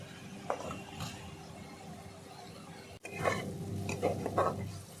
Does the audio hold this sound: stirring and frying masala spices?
yes